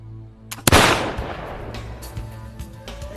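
A single loud gunshot from an antique pistol, sharp close crack followed by a long rumbling echo, preceded by a faint click.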